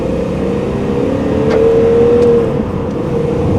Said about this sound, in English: Smooth, growly, 6-cylinder noise that is just so enticing from BMWs.